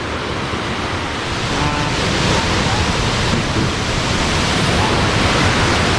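A constant broadband roar of rushing water at Khlong Lan Waterfall in Kamphaeng Phet, Thailand, steady and loud throughout, pouring without pause.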